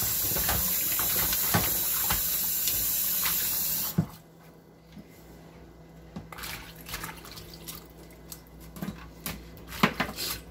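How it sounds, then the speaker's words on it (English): Running tap water splashes steadily as lettuce is rinsed under a kitchen faucet, a full rushing flow for the first few seconds, then quieter trickling with scattered knocks and splashes of leaves being handled. "I'm washing my lettuce."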